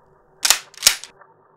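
Gunshot sound effect in a narrated witch story, two sharp close cracks in quick succession, each with a short hissing tail, and no talk.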